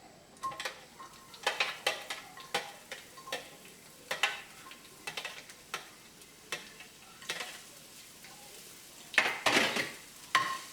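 Onion frying in hot oil with curry leaves in a pan, for Sri Lankan tempered leeks; quiet crackling sizzle broken by irregular clinks and scrapes of a utensil against the pan.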